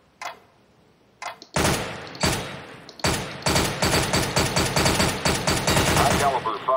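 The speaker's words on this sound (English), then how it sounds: "Fire in short, controlled bursts." Short controlled bursts of automatic rifle fire on a Counter-Strike: Global Offensive training course, loud and close, starting with a few single shots and building into a rapid string of repeated bursts.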